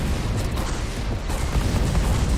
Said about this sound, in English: You hear those explosions?